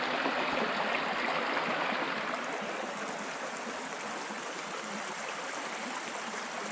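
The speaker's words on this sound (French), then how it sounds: "on a une petite rivière, un petit ruisseau" A small stream in the Belgian countryside flowing steadily, a continuous gentle rushing and burbling of water heard close and alone, without any voices.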